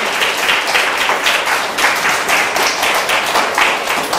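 A large church congregation claps continuously and evenly, a sustained round of applause filling the room.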